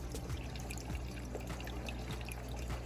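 Defrosted fish food poured slowly into a home aquarium tank, giving a soft, close trickle and dribble of water with small splashes over a steady background hum.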